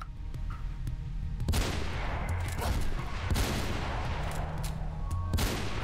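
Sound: sniper rifle gunfire in Mirror's Edge video game

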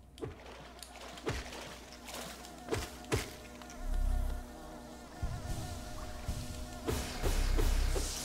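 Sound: insects buzzing in the Hive area, Hollow Knight video game

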